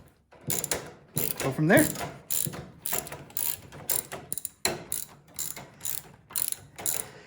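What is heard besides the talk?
ratchet wrench removing carburetor bolts on Craftsman snowblower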